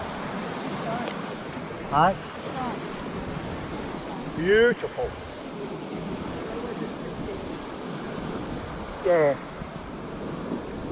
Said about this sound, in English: It's the ocean, mate.